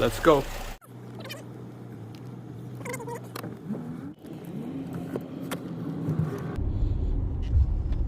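A 2011-15 Lincoln MKX with a newly fitted brake booster pulls away. Its low engine rumble swells near the end after brief talk and a short quiet gap, with a voice speaking over the start.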